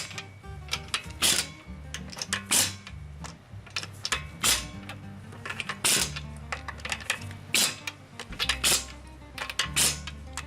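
An impact gun tightens the wheel lug nuts on a 2010–2014 Subaru Outback, working in a star pattern: repeated short, loud rattling bursts with brief pauses and clanks between them.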